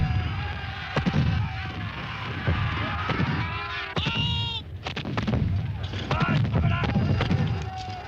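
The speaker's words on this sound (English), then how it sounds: "the men on the Highland right make a clear and tight-packed target for the English gunners." Artillery cannon fire on the battlefield at Culloden, with repeated heavy booming shots in quick succession over a constant loud din and bleating-like cries, continuing throughout.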